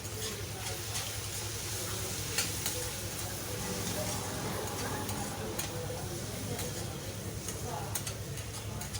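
Tomato tempering with turmeric frying in a pan for Andhra chintakaya uggani, a steady close crackle and sizzle with scraping stirs throughout, a low hum underneath and no talking.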